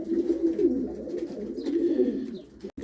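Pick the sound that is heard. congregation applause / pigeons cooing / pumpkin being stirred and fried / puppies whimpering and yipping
pigeons cooing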